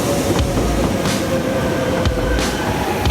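An RER commuter train in Paris rumbles loudly and continuously, with rhythmic clacks of wheels over rail joints and a faint whine, close and steady with no voices.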